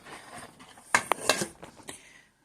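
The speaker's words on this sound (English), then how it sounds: "Now I added the sour cream, and now I'm gonna whisk those up." A whisk clinks and scrapes against a pot as sour cream is beaten into thick winter potato soup, a few sharp metallic taps in a short burst, close and moderately loud, no talking.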